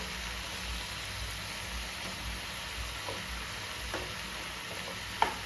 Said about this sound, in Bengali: খোয়াটাকে সাথে ভালো করে মিশিয়ে নেব